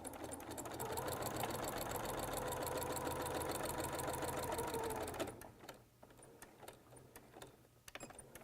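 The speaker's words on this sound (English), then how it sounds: "So we're just going to sew along that diagonal that we pressed." A sewing machine runs steadily for about five seconds, stitching two quilt binding strips together along a pressed diagonal, then stops, leaving quieter handling noises and a few light clicks.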